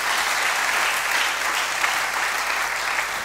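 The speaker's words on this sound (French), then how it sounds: "Est-ce qu'on peut acclamer pour la parole du Seigneur?" A church congregation applauds in sustained, even clapping that fills the space steadily from start to finish, with no speech over it.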